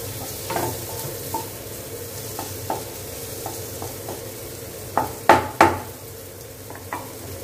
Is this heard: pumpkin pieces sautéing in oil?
yes